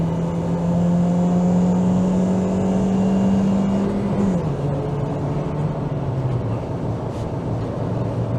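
A Ford Mondeo MkIII 1.8 heard from inside the cabin while accelerating in third gear on a road drive, a loud, steady engine drone over road noise that drops in pitch about halfway through and carries on lower.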